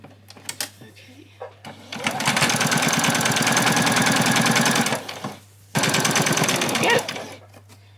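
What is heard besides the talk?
sewing machine stitching along the bottom of an apron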